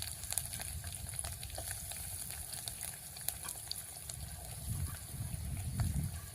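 Finely chopped onions, curry leaves and green chillies frying in hot oil for a spicy flattened-rice and peanut snack, a steady close crackling sizzle that swells louder toward the end, with no talking.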